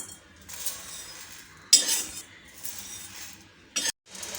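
Roasted toor dal is scraped from a pan onto a plate with a metal utensil, giving a few clinks and rustling scrapes, one sharper scrape in the middle and a brief burst just before a short silence.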